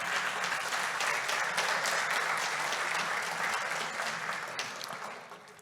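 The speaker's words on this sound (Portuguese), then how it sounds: "Pode aplaudi-las, por favor." Audience applause at an energy-efficiency conference panel, steady dense clapping from a large crowd that holds for several seconds and slowly tapers toward the end.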